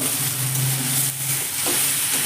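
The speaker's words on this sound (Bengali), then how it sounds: "এবারে সবজিটার মধ্যে দিয়ে দিচ্ছি 2টো টমেটো।" Two tomatoes go into a pan of mixed vegetables frying in a little oil, giving a steady, close sizzle with soft stirring scrapes and no talk.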